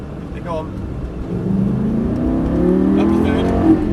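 A supercar engine revs hard and climbs in pitch as it accelerates through downshifts and upshifts, loud and close, with a voice faintly underneath.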